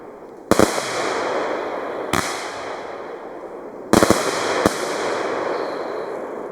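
Four sharp bursts from a fireworks cake pop at uneven intervals, each followed by a crackling, hissing shower of gold sparks that fills the gaps between them.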